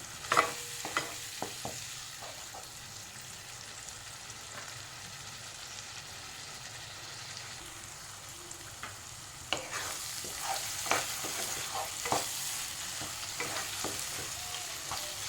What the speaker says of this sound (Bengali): অল্প পরিমাণে জল দিয়ে মশলাটাকে ভালো করে কষিয়ে নিতে হবে। 3 থেকে 4 মিনিট আমি এভাবে কষিয়ে নেব মশলাটাকে।